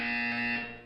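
A loud, sustained electronic buzzer from the Portal 2 video game, a steady harmonic drone holding at full strength for most of the second before tapering slightly, with a brief blip at the very end.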